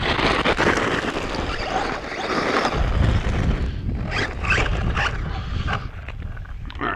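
A Redcat Blackout XTE Pro RC truck fitted with Traxxas Talon 2.8 tires runs at full throttle, with a continuous loud rushing of motor and tire noise against the ground that surges and varies in intensity.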